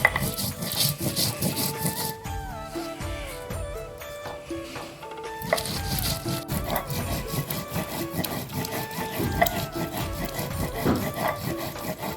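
Dried red chillies ground on a grinding stone: steady, repeated rough scraping and rubbing strokes, close and fairly loud, running through the whole stretch beneath continuous background music.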